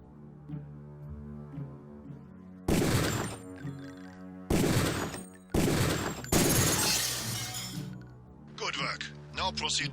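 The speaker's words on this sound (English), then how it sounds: "Release the second target and aim before shooting this time" Gunfire at a target in the game Deus Ex, several loud sharp bursts in separate clusters over a steady background hum, with a voice speaking between shots.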